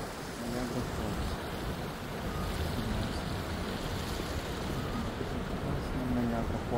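Niagara Falls pours in a broad, steady roar of rushing water seen from above the falls, a dense continuous wash with no breaks, while people talk over it throughout.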